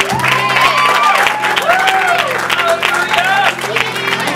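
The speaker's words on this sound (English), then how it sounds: "Let's give the Lord a hand clap for our new parking lot." A church congregation claps and cheers for a new parking lot, a sustained burst of applause with voices and musical tones running underneath.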